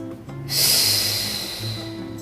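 A strong, breathy exhale during a Pilates ring workout, a single long rush of air that rises quickly and slowly tapers off, close and fairly loud.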